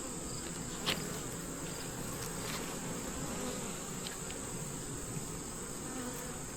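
Honey bees buzz around a beetle trap at a hive, a steady close hum holding throughout with no talk.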